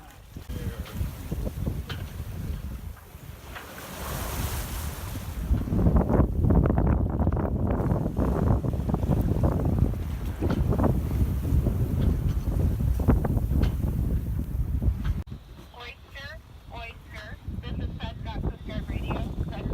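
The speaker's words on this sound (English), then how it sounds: "we sailed through with just the jib up" A sailboat sails under its jib alone, heading through a raised bridge opening. Steady wind rushes and buffets the microphone, with water and hull noise underneath, loud throughout and easing slightly near the end.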